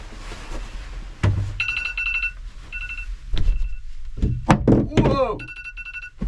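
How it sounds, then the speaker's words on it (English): Inside a tiny homemade box, a mobile phone rings in several short repeated electronic bursts, mixed with thumps and loud talking close by. "Oh, that was my phone."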